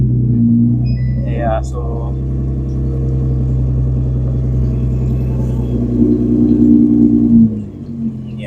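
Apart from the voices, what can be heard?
Nissan GTR R35 engine started and running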